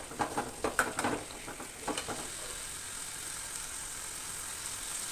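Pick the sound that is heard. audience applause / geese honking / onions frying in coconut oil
onions frying in coconut oil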